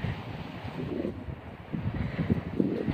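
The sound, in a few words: strong wind blowing over garden frost cover fabric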